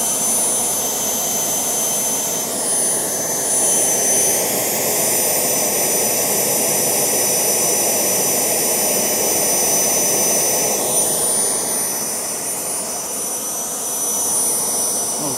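A homemade Kamps jet engine burning kerosene on its first test run gives a loud, continuous turbine roar with a high whine, steady throughout and heard close, with no talk over it.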